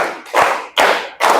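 Schoolchildren in a classroom clap together on a count, three crisp, loud unison claps with brief thuds, evenly spaced with short gaps between them.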